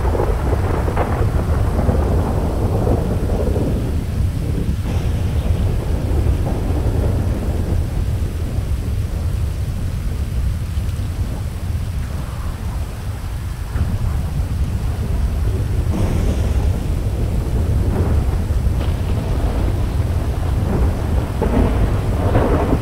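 Heavy thunderstorm in a roleplay video game: steady loud rain with rolling thunder swelling and fading throughout, alone without voices.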